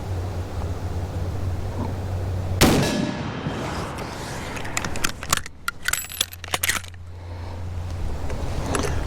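A single loud shot from a 30-30 lever-action rifle, a Winchester 94 or Marlin 336, cracks sharply and decays. It is followed by a rapid run of metallic clinks and clatter, with no talking.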